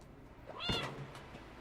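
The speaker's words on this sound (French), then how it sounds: "Quel formidable petit chat, hein, quand même." A single soft meow from the cat in the video game Stray, faint and brief against a quiet background.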